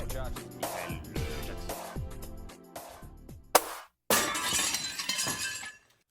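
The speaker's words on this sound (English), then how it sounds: "Symbolizing a musical breakthrough with the shattering of glass" Glass shatters loudly near the end of the opening of an album, a sharp crash followed by a bright spray of breaking shards, after a stretch of rhythmic musical and effects sounds.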